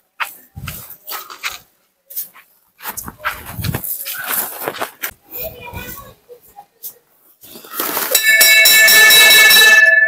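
A metal bell rings rapidly and continuously near the end, loud and close, after children chatter and shuffle about at a village school held under a banyan tree.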